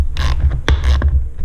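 A ratchet turned with a 3/8 socket on the bolts of a Sur-Ron electric bike, making a few close, loud mechanical clicks and clacks in short bursts.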